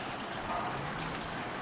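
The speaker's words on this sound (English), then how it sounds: "we are definitely getting freezing rain now" Freezing rain falls steadily at 6:30 in the morning, a dense even hiss of drops on surfaces, continuous and fairly close with no talk.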